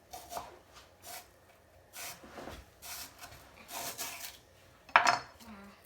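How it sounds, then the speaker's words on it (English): A kitchen knife cuts through rhubarb stalks on a board, giving a series of soft, evenly spaced crunching slices with a sharper knock near the end, close and fairly quiet. "I'm going to take off the hard ends, and then I'm going to slice it like celery"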